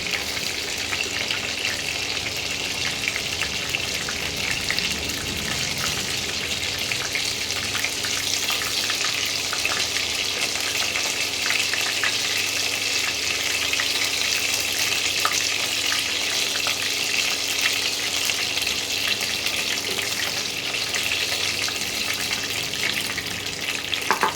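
Chicken pieces fry in hot oil for chili chicken, a steady, close hiss and crackle that runs without a break and without any talking.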